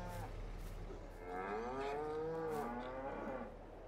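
Cows mooing on a cow farm in the video game Farming Simulator 22: one long, drawn-out low moo, fairly close, over a steady ambient hum.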